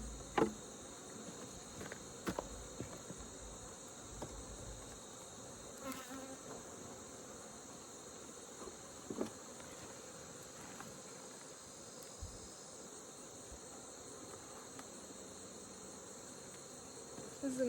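Honey bees buzz steadily around a hive during a fall check, a faint continuous drone with occasional small knocks and taps nearby.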